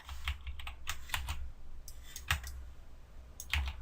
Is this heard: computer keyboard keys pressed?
yes